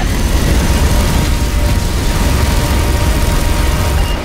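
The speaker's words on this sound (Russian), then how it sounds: "Видим вертолеты противника в вашем воздушном пространстве. Вертолет противника на подходе!" In Call of Duty: Modern Warfare 3, an enemy helicopter approaches as a loud, steady roar of rotor and engine noise that fills the whole stretch without a break.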